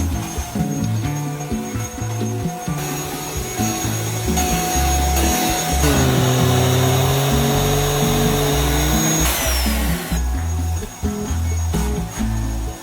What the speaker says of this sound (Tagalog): Sobrang na-amaze ako dito sa vacuum na to mga mare dahil napakalakas ng suction niya.